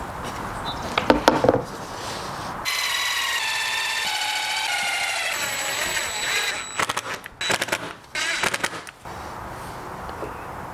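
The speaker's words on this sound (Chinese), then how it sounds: "就可以用螺丝从底下把它固定住" A cordless driver whines steadily as it sinks screws from underneath into a wooden fence board on a homemade circular-saw crosscut jig, with clicks and knocks of handling before and after the motor runs.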